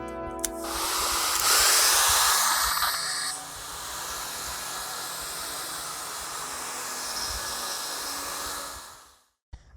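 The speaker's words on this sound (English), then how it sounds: "I'm going to take my blow dryer and we're going to have a blow dry break" A hair dryer blows with a steady whooshing roar, louder at first then settling to a constant airy hiss before switching off.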